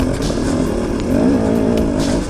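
A dirt bike engine revs steadily on a Colorado mountain summit trail in thick cloud, a loud, continuous close-up drone that swells slightly partway through, with no talking.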